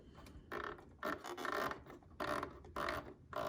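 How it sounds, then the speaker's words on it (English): A serger's small lever and cutting knife are adjusted, giving faint, close mechanical clicks and creaks in several short bursts. "we will pull this little lever towards ourselves, and also I will move knife closer to the needles"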